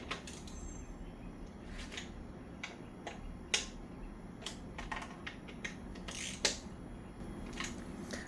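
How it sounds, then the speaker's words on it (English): A ratchet clicks while tightening a bolt on a Nissan Sentra 1.8L CVT assembly, sharp irregular ticks and snaps close by in short bursts, with no talk. "I'll use a ratchet, make sure it's tight properly."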